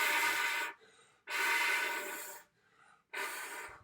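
Three breathy, airy flute tones, each held for about half a second to a second with short pauses between them, played close up and sounding like too wide a lip opening.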